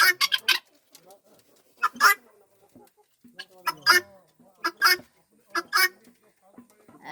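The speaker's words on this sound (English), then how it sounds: "if there is a snake around them, they make this kind of noises" Domesticated guineafowl on a farm give repeated harsh, honking alarm calls in sharp bursts, close and fairly loud, with a voice talking now and then between them.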